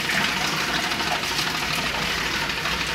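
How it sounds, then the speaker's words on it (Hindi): A water pump runs while mains water pours through the line, a dense, steady rushing and hissing flow with a low motor hum beneath, constant and close throughout. "और ये पंप चल रहा है आधे का, ठीक है।"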